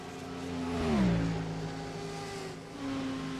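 Race cars sweep past on the Le Mans circuit in a racing sim, one engine note swelling and bending down as it goes by, then a steady drone with a second car rising near the end.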